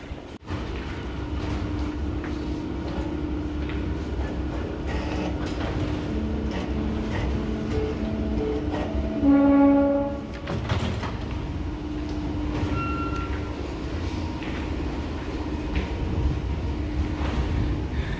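A train at the Artigues-Sant Adrià stop in Barcelona, a continuous rumbling interior drone with a rising tonal whine and a brief louder surge midway, mechanical clunks and door-like sounds around it, no speech.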